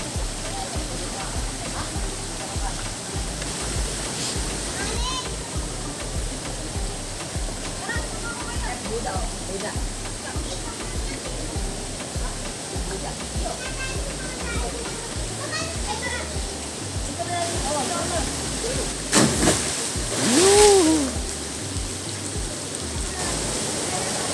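Sinto waterfall on a river, a steady broadband rush of falling water that persists throughout, with children's voices and chatter mixed in and a brief louder splash near the end.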